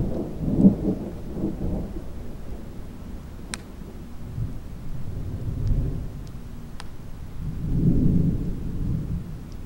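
Thunder rumbles from a large thunderhead over open country, low and distant, rolling in several soft swells across the stretch with faint rain or wind texture and no voices.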